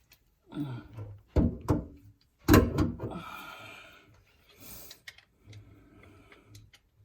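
A channel lock wrench works loose a kitchen sink basket, giving a few sharp metallic clicks and scrapes with short knocks between quieter pauses, close to the microphone.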